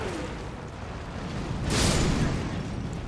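A loud, rumbling explosion of zombies in Elden Ring bursts out amid steady game noise, a single boom with crackling debris that fades over about a second.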